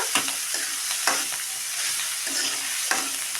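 Tomatoes frying in oil in a pan for a Telugu-style tomato chutney, with a steady close sizzle and several sharp stirring scrapes and clinks at irregular intervals.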